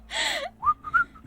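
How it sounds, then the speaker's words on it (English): A short whistled tune of a few rising and falling notes, fairly close, preceded by a breathy gasp-like sound. "you're whistling"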